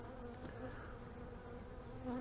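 Bees hum steadily and loudly around an open Layens horizontal beehive, a dense close buzzing swarm with no speech.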